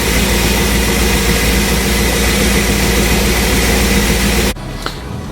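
An LS3 V8 swapped into a 1957 Cadillac and fed by an AVS2 carburetor runs with a loud, steady low rumble close up, then cuts off abruptly near the end, leaving quiet.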